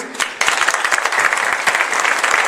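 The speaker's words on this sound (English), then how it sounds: "Big round of applause for him." A crowd applauding steadily, dense clapping that starts after a brief quieter moment and keeps going at full strength.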